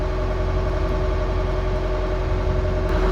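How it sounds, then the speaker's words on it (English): A full Ford Transit engine fitted in a narrowboat rumbles steadily on the water in the UK, a loud, constant low drone with a faint hum riding over it. No voices. "That lovely rumbling sound of our tranny. Got a full transit engine in this bad boy."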